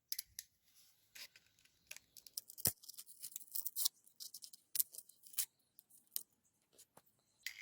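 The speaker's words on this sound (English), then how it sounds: "I'm still gonna cut the dust cap because I can't resist" Scissors snip through a loudspeaker's dust cap in a quiet room, with a series of sharp close cutting clicks and crinkles at irregular intervals.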